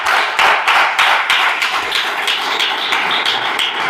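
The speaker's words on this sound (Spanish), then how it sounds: "¿Cuántos dan un fuerte aplauso a su santa y divina palabra?" A church congregation claps loudly during a sermon. The clapping is dense and close, with a rough, pulsing rhythm that holds steady for several seconds and has no talk over it.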